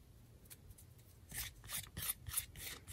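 Fingertips rub excess material off a cast Christmas ornament fresh from an IOD mould, giving a soft, close, dry scratching in short uneven strokes over a quiet background.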